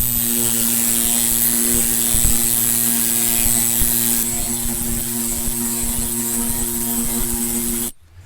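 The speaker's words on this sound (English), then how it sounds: "we decided to give this little air scraper a try on the rubberized undercoating." A small pneumatic air scraper strips rubberized undercoating from the underside of a 1967-69 Camaro or Firebird, making a loud, steady, buzzing whine that runs unbroken for about eight seconds and then cuts off abruptly.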